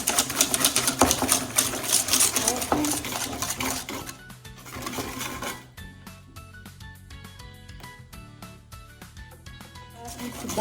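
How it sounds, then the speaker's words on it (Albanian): A kitchen whisk beats eggs in a bowl for a simple homemade cake, producing fast, steady metallic ticking and clattering strokes that continue throughout, busier at first and then more evenly spaced. "Si fillim hedhim vezët. Me telin e kuzinës."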